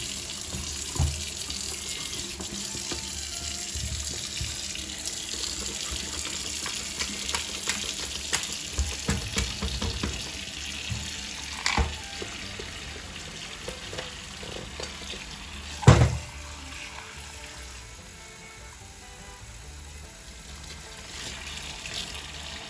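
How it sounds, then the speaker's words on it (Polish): Warm water runs steadily from a kitchen tap into a sink while parts of a Remington 1858 New Army black powder revolver are cleaned, with close clinks and scrubbing knocks over the constant stream, no speech. "wodę już mam tutaj w kranie ciepło"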